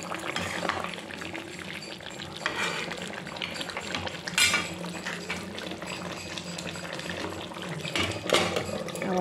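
A pot of koi fish curry with cauliflower and potato bubbles on the stove, giving a continuous simmering hiss with faint clinks of utensils and metal, and one brief louder clatter like a lid settling; no speech.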